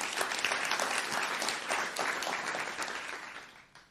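Audience applause at a food systems event, moderately distant, sustained clapping that gradually fades away toward the end, with no one speaking.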